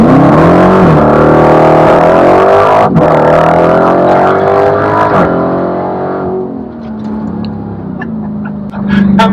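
Dodge Challenger Demon under hard acceleration with traction control on, its engine roaring loud and close, pitch climbing through gears with sharp shift breaks, then settling to a lower rumble.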